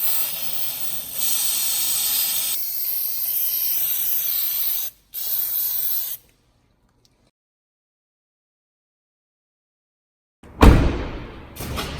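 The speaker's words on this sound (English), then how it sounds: "Maybe spray a little bit in that fuel door" Rust-proofing spray hisses through a straw nozzle into a truck's body cavities, loud steady bursts of several seconds with short breaks, then a long silence before one more sharp spray.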